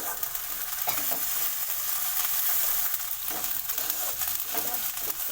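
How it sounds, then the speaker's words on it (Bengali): Garlic paste being stirred as it fries in a pan, a steady broadband sizzle with repeated scraping strokes of the spoon, close and continuous, no voices. "রসুন বাটাটা নাড়াচাড়া করে নেব"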